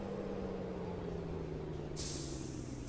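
A Volvo FH truck in World Truck Driving Simulator releases its air brake in a sudden loud hiss that rises over the low, steady rumble of the idling engine.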